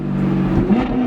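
A fast custom car accelerates hard, heard loud and close from inside as a steady engine drone swells into a short rising rev near the end, with no talk over it.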